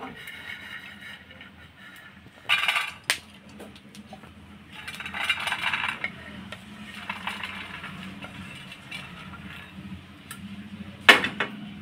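Roasted peanuts being scraped and tipped out of a metal pan: a few bright metallic clinks and rattling scrapes, two short louder bursts and a longer rustling slide, over a faint low background hum.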